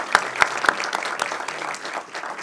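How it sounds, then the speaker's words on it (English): An audience claps at a lecture on Indo-American ties, a burst of applause with a few sharp, distinct claps at the start settling into a steady, moderately close patter. "let's give him another round of applause and thank him as well"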